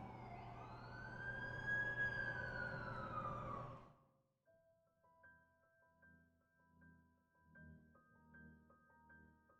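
A wailing ambulance siren in a Spider-Man video game sweeps loudly for about four seconds, then cuts out abruptly, leaving soft game music behind.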